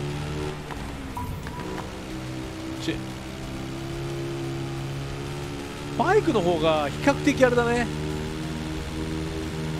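Heavy rain in the desert rally racing game Dakar Desert Rally makes a steady hiss over a low engine drone, while someone talks for a few seconds midway.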